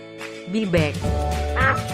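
Duck quacking in a few loud, nasal bursts that blend with a voice, so the quacks may partly be imitated; the calls sit close and fill the short stretch.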